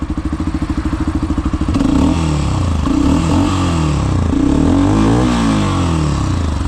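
A Tekken 250 EVO EFI single-cylinder motorcycle runs close by, a steady thumping idle that swells into a louder, rougher rev with throttle blips and some mechanical clatter.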